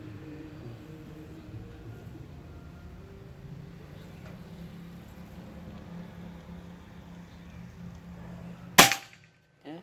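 A single sharp crack of a Bocap Pajero full-CNC Gen 5 PCP air rifle, filled to about 2100–2200, fired near the end after a long stretch of low steady background hum.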